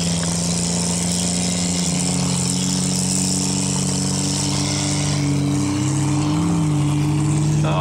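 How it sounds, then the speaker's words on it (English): A car engine labours and bogs down during a field race, a steady loud droning hum with a dip and shifting pitch near the end, no talking over it. "You can hear the engine bogging."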